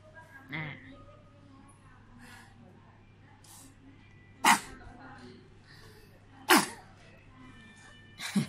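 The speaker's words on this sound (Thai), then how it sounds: "มีเสียงจาม" Sharp sneezes burst out during a yarn crochet tutorial, two loud, abrupt ones a couple of seconds apart and a third at the end, over quiet room noise with a brief voice-like sound near the start.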